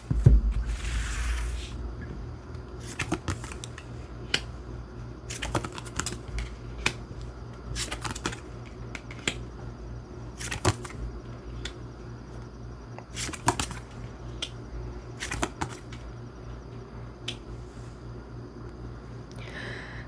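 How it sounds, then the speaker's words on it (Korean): Tarot cards are drawn one at a time from a deck, giving a series of short, crisp card snaps and slides spread at irregular intervals across a quiet room, close and fairly soft with no talking. "먼저 우리 2번 카드분 상대방 분의 속마음 보기 위해서 6장의 카드 한번 뽑아 볼게요"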